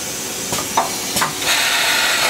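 A Tsugami S25D CNC Swiss lathe spindle turns at 3,000 RPM with the rotary guide bushing removed, making a continuous close hiss broken by a few sharp clicks and brief mechanical bursts.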